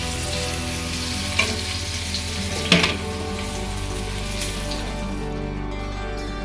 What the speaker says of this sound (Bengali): আমরা এখানে আলুটাকে একটু লাল লাল করে ভেজে নিলাম